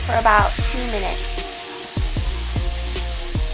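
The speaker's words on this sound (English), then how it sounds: "Now I'm putting about 1 cup of defrosted green peas and stir frying" Green peas and garlic stir frying in a pan, a steady sizzle with a run of sharp clicks and taps from stirring, under a voice talking throughout.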